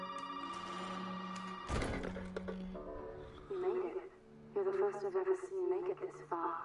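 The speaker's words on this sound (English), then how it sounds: "my phone's going off right when I open up the door" A phone rings in the Resident Evil 7 Biohazard VR video game, a steady tonal ring for under two seconds that cuts off with a sharp thud, followed by someone talking over faint game ambience.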